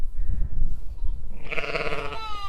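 A ewe at a lambing bleats to her newborn lambs: low soft murmuring gives way to one loud, close, wavering bleat, with no talk over it.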